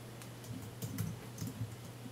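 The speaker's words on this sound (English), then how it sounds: "She's typing something." Typing on a computer keyboard during a chat roulette game, heard as faint, irregular clusters of light clicks over a steady low hum.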